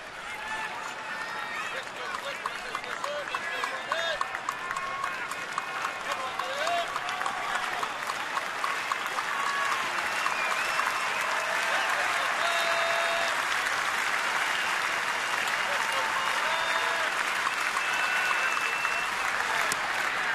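A baseball stadium crowd at a Marlins–Nationals game applauds and cheers in a continuous, roaring wash, with many people on their feet. A commentator's voice runs over it throughout.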